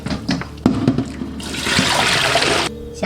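Running water pours steadily over freshly peeled small spring bamboo shoots as they are rinsed in a kitchen, a bright splashing rush lasting over a second after a few light handling clatters.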